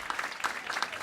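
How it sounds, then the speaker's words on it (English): Audience at a city budget engagement forum breaks into brief clapping, a dense patter of many hands heard at moderate distance. "give yourselves a big round of applause"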